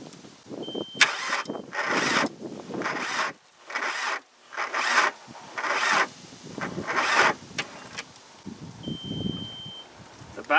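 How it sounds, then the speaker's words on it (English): A turbo diesel engine cranks over on a cold start with a weak battery, in a series of roughly one-second grinding bursts separated by short pauses, close and fairly loud, never catching. "I really don't think this thing's going to even turn over fast enough."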